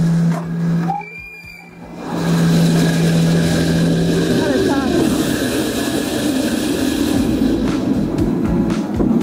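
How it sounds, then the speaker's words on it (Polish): A train departs from a station at Topiło, a sustained loud rumble of the locomotive and rolling cars. It begins after a short whistle-like tone and a brief break, and the noise stays steady to the end. "Pociąg gotowy do odjazdu."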